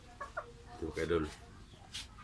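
A chicken clucks in short, brief bursts at a rural farm where bananas are being gathered, with a voice speaking over it nearby.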